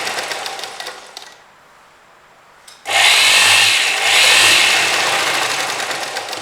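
Sewing machine stitching a neckless crop top, with a quiet stretch of running and then a loud, steady machine run starting about a third of the way in and continuing to the end.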